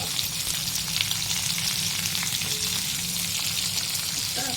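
Onion and garlic fry in hot oil with tempering spices in a home kitchen, giving a steady close sizzle and crackle that runs throughout with no talking.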